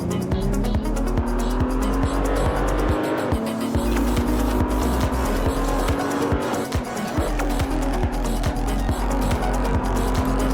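A racing car in Assetto Corsa spins out on grass with its rear wheels off the track, tyres squealing loudly over a high-revving engine and a rapid rhythmic thumping across the whole stretch.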